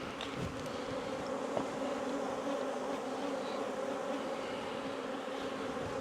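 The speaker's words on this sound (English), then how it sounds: "this was probably one of the bigger swarms I've ever caught that has came here to our farm" A large honeybee swarm settling at a farm makes a dense, continuous buzzing hum that stays steady and moderately loud, with no voices.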